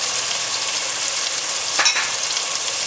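Four small-chopped tomatoes with salt sizzle and fry in a hot pan, a steady loud hiss with a brief stirring scrape partway through.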